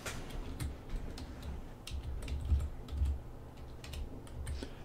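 Quiet, close typing on a Chromebook keyboard, a quick irregular run of light plastic key clicks and taps over a few seconds, with no talk.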